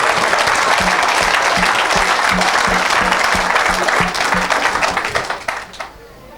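An audience bursts into sustained applause, a dense wash of many hands clapping that carries on steadily, then fades and drops away near the end.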